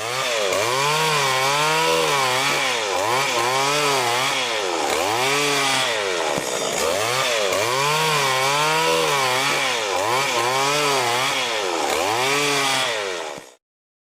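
Motorized PC75 telescopic pole pruner for palms running loud and close, its engine note rising and falling in repeated surges as it cuts, then cutting off abruptly near the end.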